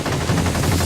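Rapid automatic gunfire in the video game Unearthed: Trail of Ibn Battuta, a short dense burst of repeated shots under game sound.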